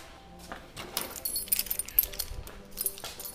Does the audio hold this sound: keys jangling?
yes